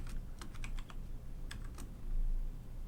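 Rapid, irregular clatter of typing on a computer keyboard, several bursts of keystrokes close up with short pauses between them, against a low steady background hum.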